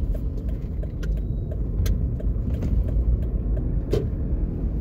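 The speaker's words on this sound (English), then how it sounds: "we're going to drive over there" Steady low rumble of a car driving along a road in New Kingston, Jamaica, continuous and close with a few faint clicks, no talk.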